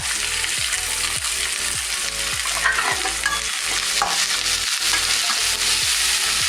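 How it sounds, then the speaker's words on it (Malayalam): Green chillies, ginger and curry leaves sautéed in a pan for tapioca cutlets, a loud, constant sizzle with a steady rhythm of spatula strokes scraping the pan roughly every half second, close up and without talk. "ഇത് നന്നായിട്ട് വഴറ്റണം."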